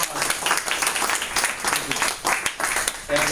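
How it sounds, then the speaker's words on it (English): Applause from the audience at a lunch event in a Miami Beach steakhouse, a dense patter of many hands clapping at moderate distance while voices murmur underneath. "So I think we need a round of applause for"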